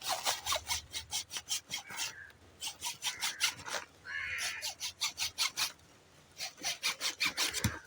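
A blade cuts repeatedly through a plant stem with quick rasping, sawing strokes in short bursts, close and fairly quiet, with brief pauses between sets.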